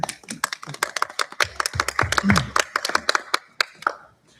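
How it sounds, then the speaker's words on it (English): Scattered applause from a small group at a board of education meeting, uneven claps close by that build briefly and then trail off into a few last claps. "That would seem to deserve some applause."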